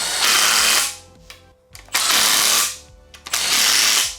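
An impact gun set to medium tightens oil pan bolts, firing three loud, close hammering bursts of about a second each, separated by brief quiet gaps.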